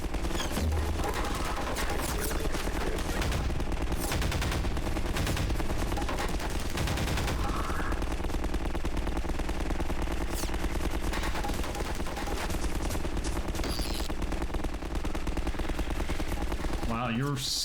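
Gunfire in Half-Life 2, a dense, continuous run of shots and bursts over busy combat noise lasting the whole stretch, with voices partly mixed in.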